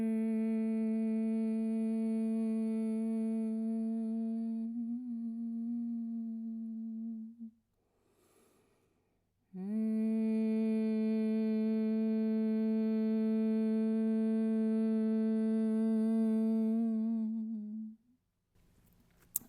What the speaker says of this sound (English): take a Brahmari breath. So you're going to inhale, and as you exhale, say Om with your mouth closed